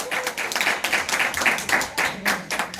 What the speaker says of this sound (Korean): 박수로 좀 모시겠습니다